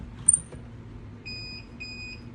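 A sublimation heat press timer gives a run of clear, high electronic beeps, a short chirp first and then two longer steady tones repeating in a regular pattern over quiet room hum.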